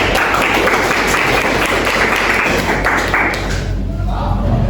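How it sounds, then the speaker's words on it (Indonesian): Audience applause at a group presentation on network topology, a dense steady wash of clapping lasting several seconds, loud and close, thinning slightly at the end. "Tepuk tangan untuk Mas Rian."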